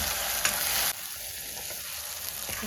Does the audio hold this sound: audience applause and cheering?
no